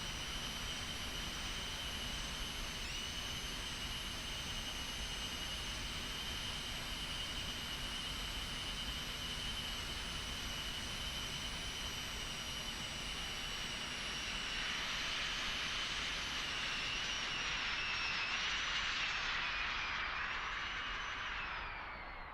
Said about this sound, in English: And this is quite a little very light jet.